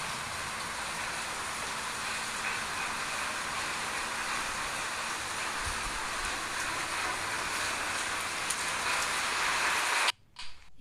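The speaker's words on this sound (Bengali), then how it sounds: "দেখো আমাদের এখানে কত বৃষ্টি হচ্ছে আজকে" Heavy rain pours outside a balcony, a steady, loud broadband hiss that continues evenly before cutting off abruptly near the end.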